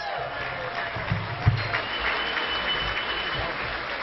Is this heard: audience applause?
yes